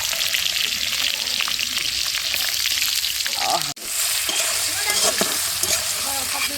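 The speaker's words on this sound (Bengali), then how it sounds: "তেলের ছেঁকানিতে দেখো" Prawns fry in hot oil over a clay village stove, a loud, dense, continuous sizzle heard up close with a brief sharp dropout midway and some light crackles, no voices.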